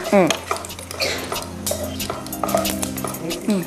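Cashews fry in ghee in a pan while a metal spoon stirs and scrapes them, with clinks against the pan over a soft sizzle and an engine-like hum beneath.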